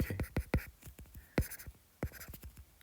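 Marker or chalk writing on a board while a decrease is labeled in a physics lesson, a series of quick, sharp scratchy strokes in uneven bursts, close and clear with no voice.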